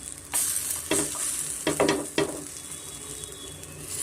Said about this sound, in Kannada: ಎರಡು ಸೈಡು ನಾನು ಚೆನ್ನಾಗಿ ಫ್ರೈ ಮಾಡಬೇಕಾಗುತ್ತೆ